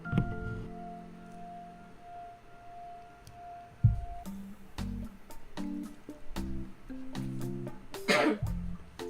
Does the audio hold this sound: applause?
no